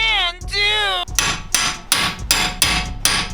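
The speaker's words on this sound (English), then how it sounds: "you hit the fuck out of it with a hammer." A hammer strikes a tool on a Cabrio car project, landing five sharp, evenly spaced metallic blows close up after a short whining tone at the start.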